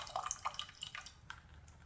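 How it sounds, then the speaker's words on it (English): Water trickling and dripping out of a plant pot during repotting, a quiet run of small splashes and drips, close by and irregular, with no talk. "I'm draining out the water."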